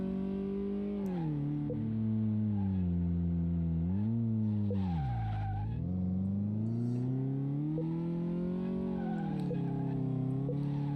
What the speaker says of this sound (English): Ooh, it even squalls tires.